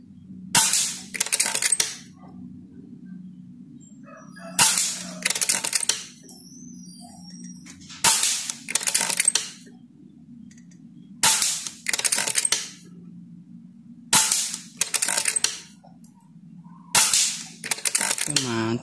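Air gun pellets strike metal silhouette targets in a series of sharp metallic cracks and pings, about two to three quick hits per burst, with bursts coming roughly every three seconds over a steady low hum.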